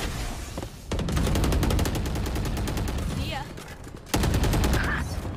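Rapid automatic gunfire from the tactical shooter game Valorant, dense repeated bursts of shots filling most of the clip, cutting off briefly then resuming loud near the end, with faint voice chat underneath.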